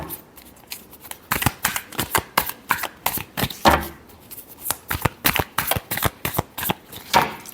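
Tarot cards are shuffled by hand in quick, crisp riffling bursts that repeat in a steady rhythm, close and clear, with no talking over them.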